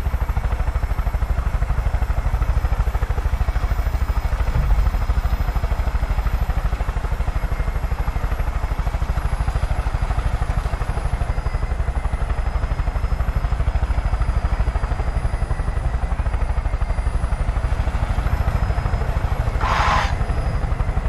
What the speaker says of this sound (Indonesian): Helikopter nih boleh